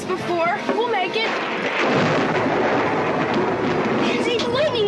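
Thunder from a lightning strike during a squall, a loud close rumbling crash that swells and lingers under excited voices talking over it.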